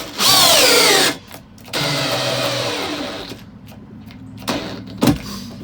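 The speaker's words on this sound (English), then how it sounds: "My battery drill's about dead on this one." A cordless battery drill with a nearly dead battery whines briefly at high speed, then runs again slower and weaker as it winds down, followed by a couple of knocks.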